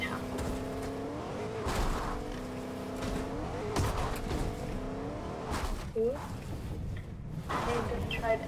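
Truck engine in the Fortnite video game, a droning motor with shifting pitch and repeated revving surges, heard steadily throughout under game noise.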